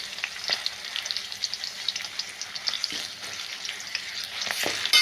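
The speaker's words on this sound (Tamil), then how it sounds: "பச்சை மிளகாய் நல்லா வதங்கணும், அந்த கலர் மாறணும்" Green chillies sautéing in oil in a pan, with a steady close sizzle and frying crackle and occasional stirring scrapes throughout, no talking.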